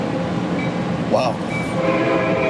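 A train rumbles steadily into a station, its continuous low roll joined by a brief high horn-like tone midway, with faint background murmur.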